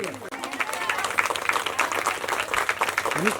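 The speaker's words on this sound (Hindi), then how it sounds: "एक बार जोरदार ताली उनके लिए" Audience applause at an award ceremony, a steady crowd of clapping that carries on throughout, close and fairly loud, with a voice audible underneath.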